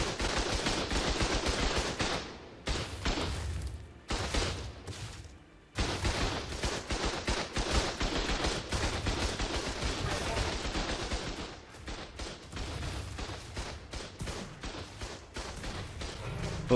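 Sustained automatic gunfire rips through a PVP raid in the game Ark, dense rapid bursts with short breaks, loud and close, with faint voices now and then.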